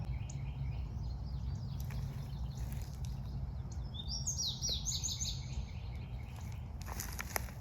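Several birds sing and chirp in overlapping phrases over a steady low rumble of background noise, moderately distant.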